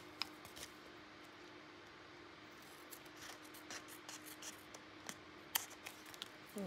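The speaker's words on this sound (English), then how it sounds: "I know I'm killing you guys with these little tiny scissors," Small scissors snip quietly and intermittently through junk mail envelopes, a few crisp cuts scattered over faint room hiss, with no talking.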